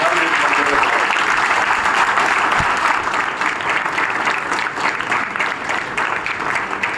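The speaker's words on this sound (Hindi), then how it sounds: "सभी कार्यकर्ताओं से ये अपील करूंगा कि जोरदार ताली बजाकर" BJP party workers at a welcome event in Faridabad clap loudly and steadily in a dense, continuous burst of applause that lasts for several seconds and eases slightly toward the end.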